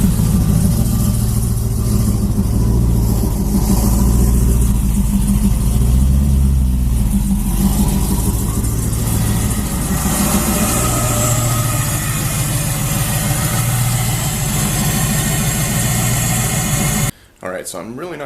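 A Chevrolet Camaro with a new intake idles steadily after starting, a loud, rough, continuous engine rumble that holds through most of the clip before cutting off near the end.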